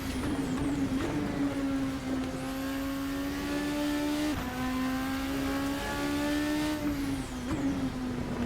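A race car in Assetto Corsa, the RSS Supreme 2025, lapping a fast, flowing track, its engine close and loud with rising whines, sharp gear-change dips and repeated pulls through the revs.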